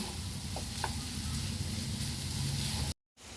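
Onions fry in a pan for rajma curry with a dense, steady sizzle and a few soft stirring taps, close by, before a brief drop to silence near the end.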